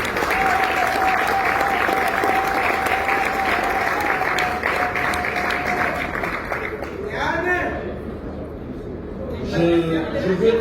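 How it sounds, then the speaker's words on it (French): Sustained applause from an audience at an award ceremony, a dense, steady wash of clapping that continues for several seconds, then thins out as a voice talks over it near the end. "Merci d'applaudir aussi à ce partenaire."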